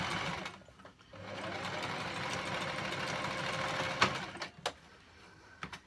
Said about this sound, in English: pop the fabric back under your machine, pop your presser foot down, line your needle up with the existing stitch line